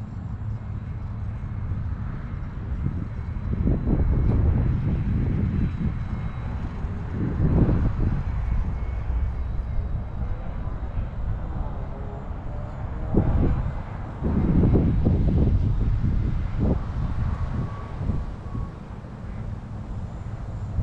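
A small E-flite UMX T-28 radio-controlled model airplane buzzes at three-quarter throttle at a distance, rising and fading as it passes, with gusts of wind buffeting the microphone.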